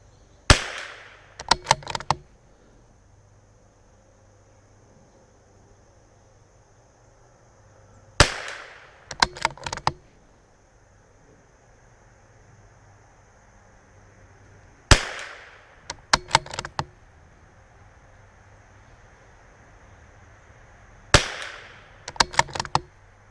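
Four sharp rifle shots from a CZ 457, each a loud crack followed by a quick burst of fainter echoing pops, spaced several seconds apart with quiet between.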